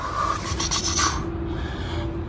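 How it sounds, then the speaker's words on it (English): Steady rough rubbing of sandpaper against a sailboat keel's barrier coat, a continuous scraping rasp close up with no voices. "I've been sanding it back"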